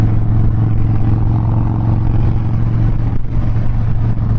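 A Harley-Davidson Dyna Wide Glide, six-speed, rumbles steadily while riding, a loud, constant low engine drone with wind noise and no break in the tone.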